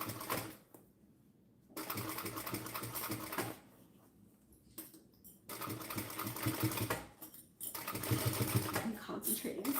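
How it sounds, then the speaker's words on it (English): A sewing machine stitches a messenger bag in close, rapid bursts of mechanical whirring separated by short pauses, and a person talks over parts of it. "if you're stitching a curve and your needle comes up, you have to redo it."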